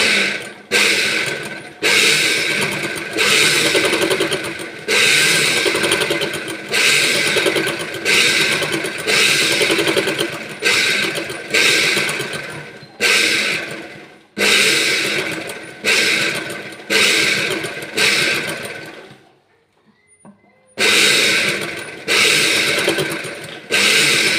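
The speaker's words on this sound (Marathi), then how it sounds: "आता इथे ब्लाऊजला अगोदर आणखी एक शिलाई टाकायची आहे अर्धा इंच मार्जिन" A sewing machine runs in repeated bursts as it stitches a blouse seam with a half-inch margin, its close mechanical whirring and ticking stopping briefly between runs and pausing longer near the end.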